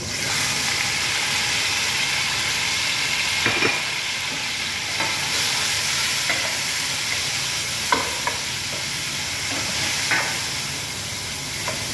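Chicken pieces, with thigh and lower part trimmed, frying in a pan with a steady loud sizzle and hiss, and occasional scraping stirs and clinks over the constant crackle, with no speech.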